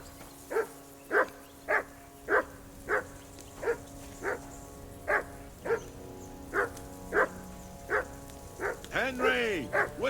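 Dog barking in the medieval role-playing game Kingdom Come: Deliverance II, a steady series of about a dozen sharp barks at roughly half-second to one-second intervals, ending in a flurry of yelps, with faint voices underneath.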